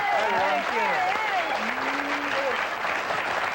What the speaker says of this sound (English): So maybe a round of applause.